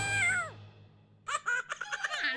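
A cartoon cat lets out a falling meow, then a run of short, higher, rapid cries follows after a brief pause, close and clear.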